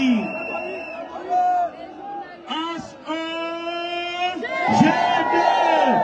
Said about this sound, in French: On applaudit, fais du bruit.